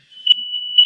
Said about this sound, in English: Whose smoke alarm is that?